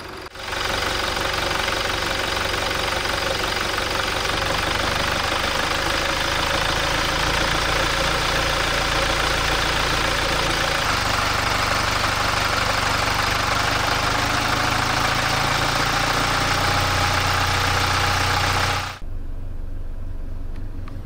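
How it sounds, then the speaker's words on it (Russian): A Toyota Prado engine idles steadily with a continuous low hum and faint knocking texture, heard close and loud for nearly the whole span before cutting off near the end. "однозначно мягче работает мотор"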